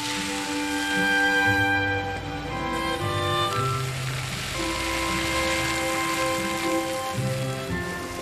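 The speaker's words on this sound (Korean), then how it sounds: "저 안개에다가 비가 오니까 더 멋있구나" Autumn rain falls steadily over the countryside around Boseong in South Jeolla province, a soft continuous hiss mixed with a low, sustained musical background and no talking.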